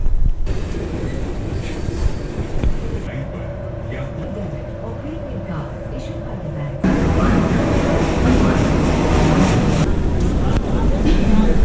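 A Delhi Metro train rumbles through Kashmiri Gate station, a steady loud roar that shifts and swells partway through, with faint voices and mechanical tones underneath.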